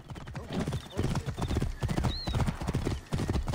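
A horse galloping in Assassin's Creed Origins, rapid rhythmic hoofbeats pounding close by, with a brief whinny and a voice speaking under the running.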